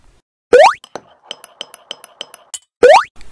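A utensil clinking rhythmically against a dish while pancit canton noodles are stirred, about ten quick light clinks between two cartoonish rising boing-like tones, in an animated scene.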